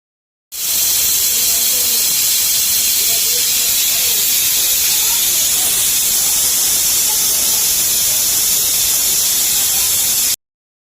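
A pressure cooker holding jackfruit pieces in water vents steam in one loud, steady hiss that runs unbroken for about ten seconds, close by and with no voices over it.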